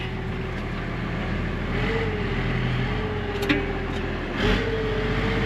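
A farm tractor moves a short distance on a steady mid-pitched engine drone, with a few small knocks and a brief rise in engine note near the end.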